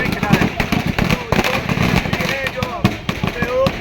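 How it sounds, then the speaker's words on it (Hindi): Fireworks and firecrackers burst at a BJP victory celebration in Neemuch over the Maharashtra assembly election win, a dense, loud stream of sharp cracks and pops mixed with crowd noise and passing traffic. "आतिशबाजी हो रही है"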